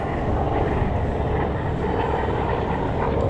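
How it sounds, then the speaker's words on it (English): A ground attack plane flies past at the Vance AFB 75th airshow, a steady, broad engine roar that stays loud and continuous throughout without any talk. "there's that ground attack plane flying by"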